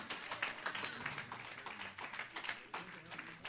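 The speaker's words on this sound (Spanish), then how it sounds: "Denle ese aplauso a Dios" A church congregation applauds during a Sunday Spanish-language service, a steady wash of clapping from many hands that fills the room, with voices murmuring underneath.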